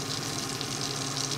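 A half stick of butter and about two tablespoons of coconut oil sizzle in a frying pan, a short, soft, steady hiss of crackling fat with no voices.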